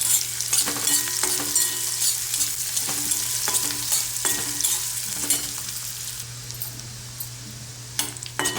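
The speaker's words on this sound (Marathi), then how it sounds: "आता आपण बारीक चिरलेला कांदा तो घालायचा आहे। कांदा आपल्याला व्यवस्थित परतून घ्यायचा आहे।" Finely chopped onion sautéing with asafoetida and curry leaves for a dry hyacinth bean dish, giving a steady close sizzle with repeated spoon clinks and scrapes from stirring throughout.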